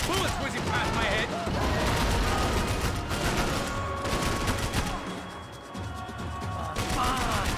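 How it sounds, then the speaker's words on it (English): Dense gunfire rattles in a Max Payne 3 firefight, with bursts of automatic shots, sharp impacts and mechanical clatter running almost continuously. Voices talk over the shooting. "Bullets whizzing past my head"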